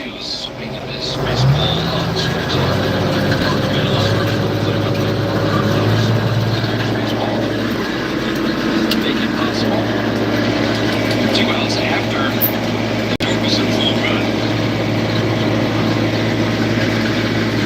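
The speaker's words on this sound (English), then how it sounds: "Kick the PTO on with the throttle all the way down." A tractor engine runs with the PTO engaged at low throttle, a steady low idle hum that starts after a clunk of engagement and holds evenly, with someone speaking at the beginning.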